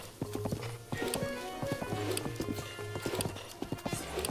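Horse hooves clatter in rapid rhythmic gallop beats in Zelda Breath of the Wild, loud and steady throughout with game music and faint effects underneath.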